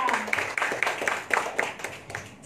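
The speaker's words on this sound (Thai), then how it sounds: "ขอเสียงปรบมือดังๆกับผู้บ่าวสาวค่ะ" Wedding guests clapping for the bride and groom at a Thai ceremony, steady rhythmic applause of a modest crowd with sharp individual claps, moderately loud and close, with a voice briefly audible.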